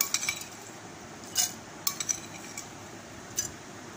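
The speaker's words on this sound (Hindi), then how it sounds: "अब यहाँ पर मैंने ली है पिसी हुई बर्फ, शामिल कर देंगे।" Crushed ice spooned into serving glasses for a strawberry drink gives a few brief, light clinks and chinks of ice against glass, spaced irregularly over a quiet background.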